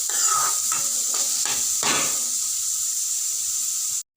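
Chopped vegetables for veg cutlets fry on a low flame in a pan, giving a steady soft sizzle with a few light stirring scrapes early on, then a brief cut to silence near the end.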